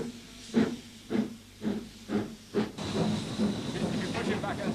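Steam locomotive on a heritage line in the Mendip Hills of Somerset, England, giving four or five sharp periodic bursts of hissing steam, then a continuous loud steam hiss with faint background noise.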